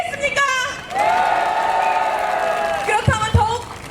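A large crowd at an outdoor election rally for a mayoral candidate in Ansan, South Korea, roars and cheers in a sustained loud wave, with whoops over the din and a few sharp shouts near the end.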